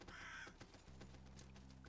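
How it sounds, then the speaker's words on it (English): Crows cawing in the dark fantasy game Salt and Sanctuary, a few harsh calls early on over a steady low game ambience, fairly quiet and with no talking. "Crows."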